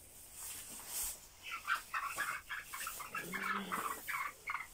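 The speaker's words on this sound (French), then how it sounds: "Et j'attrape 2-3 poussins." Several small Orpington chicks give a rush of high, rapid peeping chirps close by, repeated bursts over a few seconds with faint handling noise beneath.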